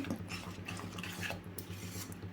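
A spoon stirs halwa with ghee in a pan, steady scraping and rubbing strokes against the metal with light clinks, close and fairly quiet over a low steady hum.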